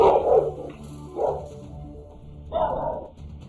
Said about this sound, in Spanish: En el video se aprecia a un perro corriendo y ladrando.